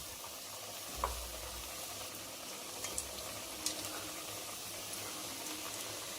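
Jackfruit pakora fritters fry in hot oil with a steady, soft hiss and bubbling sizzle throughout, broken by a few faint clicks and light taps as pieces go into the pan.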